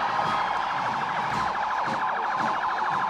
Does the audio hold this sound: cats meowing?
no